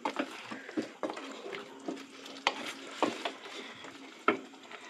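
Chicken do pyaza gravy stir-fried over a high gas flame, quiet sizzling under irregular scraping and clacking of a spoon against the pan, several sharp knocks spaced through, close and faint.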